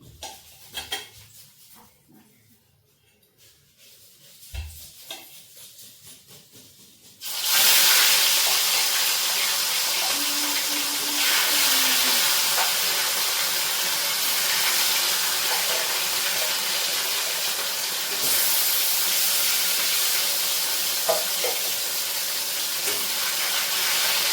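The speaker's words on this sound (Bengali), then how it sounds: "তো চলো আগে মাছগুলো ফার্স্টে ভেজে নিই।" Fish frying in a pan, where after a quiet start a loud hissing sizzle suddenly erupts and stays strong and steady, with faint clinks of utensils now and then.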